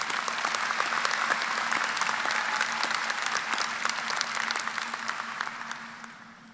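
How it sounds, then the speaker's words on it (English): An audience at a 2024 medical college hooding ceremony claps for award winners, a dense and steady applause that fades toward the end. "let's have a round of applause for all of our award winners"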